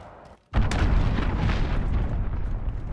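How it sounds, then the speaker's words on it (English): An enemy cruise missile slams down during a Call of Duty: Modern Warfare domination match, a sudden loud explosion after a brief lull, followed by a long rumbling roar and scattered debris crackle. "Enemy cruise missile incoming"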